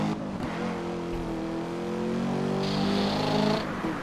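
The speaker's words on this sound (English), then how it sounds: "I love the sound of this car, man." A sports car engine in the racing game Need for Speed: Rivals holds a steady throaty drone that swells into a higher revving pitch, loud and continuous without speech.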